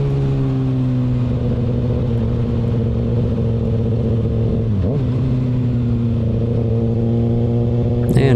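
A 2020 Kawasaki ZX6R motorcycle rides over patchy, bumpy asphalt, its engine a loud, close, steady drone held throughout with no speech.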